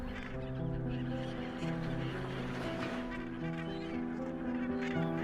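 Dense colony of Cape gannets on the Skeleton Coast of Namibia, a steady chorus of many overlapping harsh honking calls filling the air without pause, loud and close.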